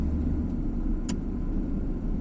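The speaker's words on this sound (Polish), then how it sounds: "jakiś samochód, nie?" A car passes on a city street in Szczecin, heard as a steady, moderately quiet low rumble of engine and tyres with no voices over it.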